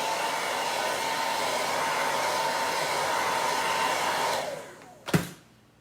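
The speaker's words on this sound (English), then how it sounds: "Hit at that with a blow dryer real quick." A blow dryer runs steadily and close, a constant whooshing roar aimed at a re-usable transfer, then winds down and cuts off, ending with a short clunk as it is set down.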